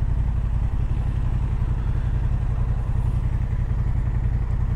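A stock Honda Hornet A2 motorcycle idles in traffic, its engine giving a close, steady low-pitched burble with rapid even pulses and no talking.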